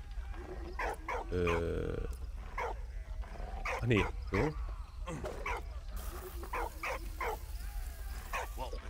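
A dog in Valiant Hearts: The Great War, a First World War game, barks repeatedly in short yips and woofs scattered across the stretch, moderately loud, mixed with game sounds while someone talks over them.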